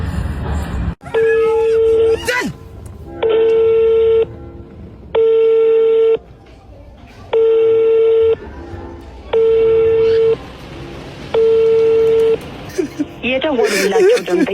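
Ringing tones from an unanswered telephone call: six even electronic bursts, each about a second long and separated by short gaps, loud and alone.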